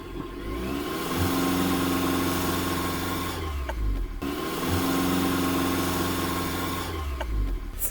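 A Toyota C-HR hybrid crossover revs twice, its engine note climbing in pitch and holding before dropping back, loud and close with a steady drone between the two pulls.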